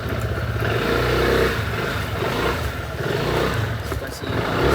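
Motorcycle ride to a market, a loud, close engine drone with a steady low rumble and gentle rises in revs, some road clatter mixed in and faint voices underneath.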